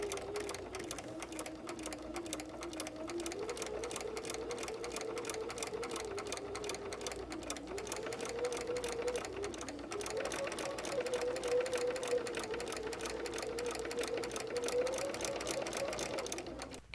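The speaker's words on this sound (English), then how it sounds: "let's go sew our 1/4 inch seam" A sewing machine stitches a quarter-inch seam on quilting fabric, its fast steady motor whir running continuously up close, with small changes in pitch as speed varies.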